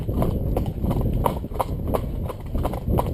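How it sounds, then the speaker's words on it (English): A saddled horse trots downhill, its hooves striking in a steady, even two-beat clip-clop that stays loud and close throughout. "Her balance under the saddle is improving, so she's able to trot down the hill without speeding up"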